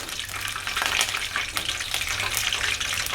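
Anchovies (nethili) fry in oil with a bunch of curry leaves, producing a steady, close hiss of bubbling oil that swells and eases in waves, with no voices.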